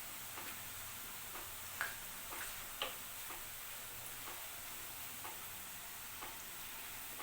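Bhaliyan half-frying in hot oil, a steady low sizzle with faint bubbling and a few soft utensil taps scattered through, no voices.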